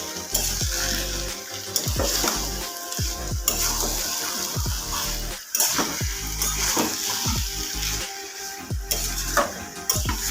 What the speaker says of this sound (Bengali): অনেকক্ষণ থেকে নেড়ে নেড়ে নেড়ে নেড়ে তোমাদেরকে তো কপিটা দেখালাম